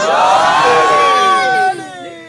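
A crowd at a Shia majlis gathering loudly chants the religious slogan Nara-e-Haidari, many voices rising and falling together in a sustained, swelling cry that drops off abruptly near the end.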